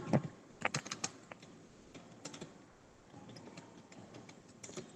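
Keys clatter on a computer keyboard while a bill is entered in MS Excel 2013, a quick burst of clicks at the start and then scattered, sparse taps, close and fairly quiet.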